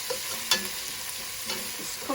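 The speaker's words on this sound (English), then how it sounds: "Now I like to caramelize the onions a little bit." Onions caramelize in a pan over fairly high heat, a constant dense sizzle broken by occasional scrapes and taps of a stirring utensil, close and fairly loud.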